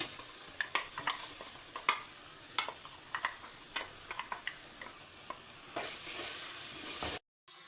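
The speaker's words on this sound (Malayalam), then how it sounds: "വെളിച്ചെണ്ണയിലിട്ടൊന്ന് പരട്ടാം നമുക്ക്" Coconut oil sizzles steadily in a pan while a spoon stirs and taps the metal in irregular clicks, close and moderately loud, with the sizzle rising toward the end before cutting to silence.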